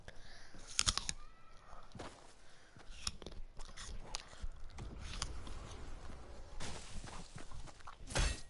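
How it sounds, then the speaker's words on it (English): Faint, irregular crunching bites and chewing of an apple close to the microphone, scattered over several seconds with quiet pauses between. "I'm eating an apple, so if you hear any munching."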